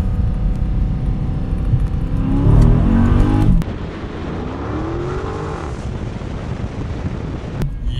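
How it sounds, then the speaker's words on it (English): A Dodge Scat Pack engine roars loudly in second gear at around 30 mph as the stock tires spin, the revs climbing and then easing with wind noise over the microphone and no speech. "No problem spinning at 30 mile an hour in second gear"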